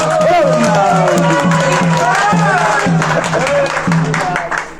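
Loud, dense clapping from a gathered devotional audience in Delhi runs continuously beneath a prominent voice speaking or chanting over it.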